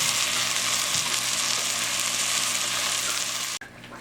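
Fried mutton with green chillies crackles loudly and steadily in a pot for mutton yakhni pulao until, near the end, mutton broth is poured in and the sizzle abruptly drops to a quiet hiss.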